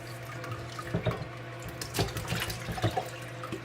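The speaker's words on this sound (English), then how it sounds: "I'm going to carefully put the juice in there" Juice from a can of stewed tomatoes is poured into a container, giving a steady close liquid trickle with a few splashy drips, alone without talk.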